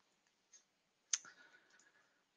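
A single sharp mouse click on a QGIS web map in a QWC2 web client demo, with a faint tick just before and a short fading tail, quiet and close.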